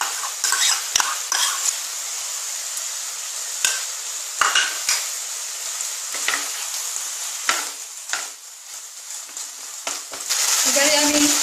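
Boiled potato mixture being stirred and sautéed in a pan for aloo chop, with a soft steady sizzle under repeated sharp scrapes and knocks of a spatula against the pan, close and clear.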